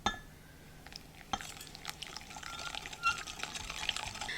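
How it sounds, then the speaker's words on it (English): Hot water being stirred into Jell-O gelatin mix in a bowl, with soft liquid swirling and light clinks of utensil against the bowl, close and faint. "we're going to add 1 cup of hot water and keep stirring it until the sugars of the gelatin"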